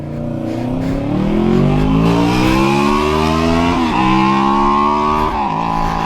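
A Honda VFR 800 motorcycle sweeps past on a winding road, its engine note rising loud and near, then dipping in pitch as it moves away with a brief gear change.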